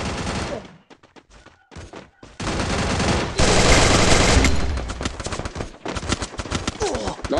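Rapid bursts of gunfire from a shooting video game played on an emulator crackle in dense volleys, with short gaps between bursts and sustained loud stretches of fire.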